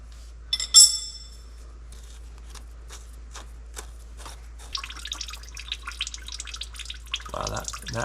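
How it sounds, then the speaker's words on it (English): Dirty hydraulic fluid dripping from a Hitachi EX100 excavator into a bucket, heard as sparse, separate drips with a sharper splash near the start and faint clatter and rustle later in the quiet. "I'm looking at the bucket that this is dripping into"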